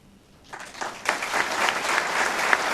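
An audience breaks into applause for the 2014 Hall of Fame inductees at a ceremony, starting from near quiet, swelling quickly, then holding as a full, sustained round of clapping.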